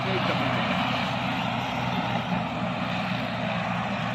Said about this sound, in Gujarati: હેલિકોપ્ટર જેવું હતું